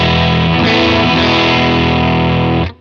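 Electric guitar through a Klon overdrive model on a Line 6 Helix with AC30 dual cabs, a single gritty sustained chord ringing out for nearly three seconds before being cut off, loud and alone.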